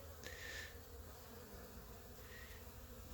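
Honey bees buzzing in a low, steady drone close by, with a couple of brief louder passes as individual bees fly near, and no talking.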